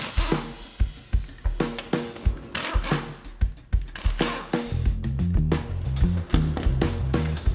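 Hand tools and an impact wrench working loose the wheel on the front axle of a Jeep WJ, giving a series of sharp, close metallic ratcheting bursts and clanks, then a steadier rapid rattling run toward the end.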